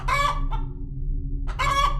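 Two loud bursts of video game chicken clucking and squawking, close and clear, separated by a short pause over a low steady hum.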